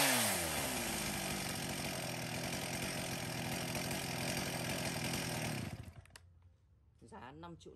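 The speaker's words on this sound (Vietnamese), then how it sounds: "cửa hàng chúng em xin phép giật test nổ con này cho các bác nghe qua tiếng máy" A chainsaw of a brand such as Stihl, Husqvarna, Komatsu, Echo or Makita is started for a test and runs loud and close at high revs with a buzzing harmonic drone, then throttles down and sputters toward idle near the end.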